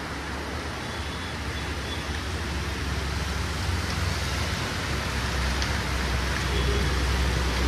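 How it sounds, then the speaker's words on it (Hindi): Heavy, steady downpour falling outside a hotel window in Dharamshala, a dense continuous hiss of rain that stays loud and even throughout, with no voices. "देखिए बारिश कितनी बेहतरीन वाली हो रही है, बिल्कुल खड़ी बारिश हो रही है भाई"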